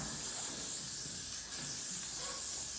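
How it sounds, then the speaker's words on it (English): Steady, continuous hiss of a spray bottle misting onto hair, broad and airy, running unbroken for a few seconds with no voices. "Spray everything."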